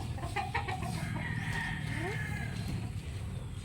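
Chickens in a breeding pen on a farm cluck and call repeatedly over a steady background hum, with a person talking faintly nearby.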